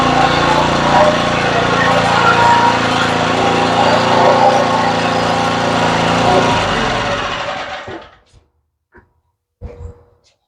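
Small Southland lawn edger engine that sat all winter, running steadily and loudly up close while edging a yard, then dying away near the end, followed by a couple of faint knocks.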